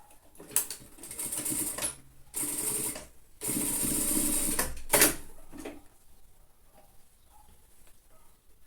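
A sewing machine runs a reinforcement seam under the arm of a lined children's coat, buzzing in a few short stitching bursts with brief stops between, then falling quiet.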